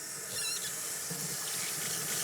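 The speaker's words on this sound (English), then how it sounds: "I'm going to turn the water on to a comfortable temperature and wet my hands thoroughly." Water runs steadily from a sink faucet onto hands being wetted for handwashing, a soft continuous hiss and splash close by with no talking.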